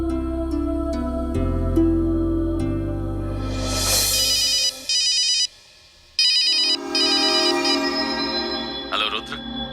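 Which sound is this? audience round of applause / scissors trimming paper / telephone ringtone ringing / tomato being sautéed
telephone ringtone ringing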